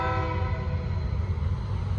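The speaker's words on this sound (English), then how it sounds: "Speaking about UP power, that's what's on this rerouted 44R. Rerouted grain train." A rerouted Norfolk Southern grain train led by Union Pacific locomotives, including a GE C44-6M and an AC44, grinds along steadily and loud, with a dense engine rumble and a sustained horn blast throughout.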